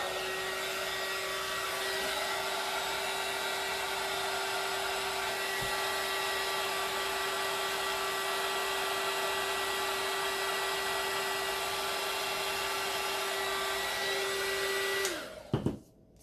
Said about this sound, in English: so I'm gonna use my heat gun